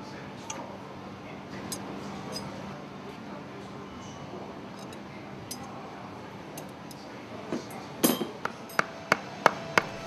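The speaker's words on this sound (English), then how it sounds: "Use a hammer and a piece of wood to hammer the piston into place in the air cylinder." A hammer drives a piston into an air cylinder through a piece of wood during an exhaust valve overhaul, landing a run of sharp, close knocks that come quicker near the end over quiet workshop noise.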